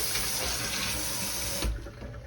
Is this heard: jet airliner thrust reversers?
no